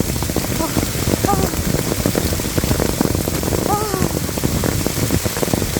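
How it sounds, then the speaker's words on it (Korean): Hail pelts down steadily in a hailstorm, a dense rattling patter of many small impacts close by, while a person speaks in short exclamations over it. "이 우박이 몇 센치까지 쌓일 것 같은데요"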